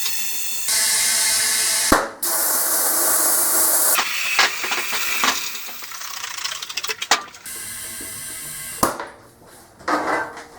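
Air rushes into a freshly mounted tire on a 2003 Suzuki GSX600F motorcycle, a loud, close hiss broken by mechanical clicks and a sharp pop partway through, with no speech.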